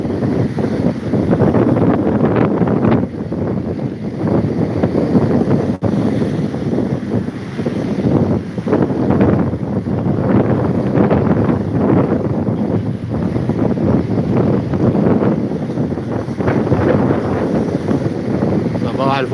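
Steady gusting seaside wind buffets the microphone with a low roar, waves or water faintly beneath, and someone talks over it in Arabic throughout.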